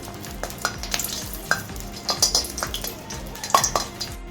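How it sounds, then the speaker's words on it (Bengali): Dried red chillies crackle in hot mustard oil, a close sizzle punctuated by repeated clinks and scrapes of a spoon against the pan in an uneven rhythm, with no voices. "এখন আমি শুকনো লঙ্কাটা ফোড়ন দিয়ে দিচ্ছি শুকনো লঙ্কাটাকে একটু বেঁধে নিচ্ছি"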